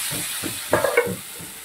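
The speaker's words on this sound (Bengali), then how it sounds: "এই আলুগুলোকে ওই মশলার সঙ্গে ভালো করে কষিয়ে নেব।" Fried potatoes get stirred into spiced masala in a pan for rohu fish curry, giving soft scraping stir strokes over a quiet sizzle, with a few brighter clinks midway.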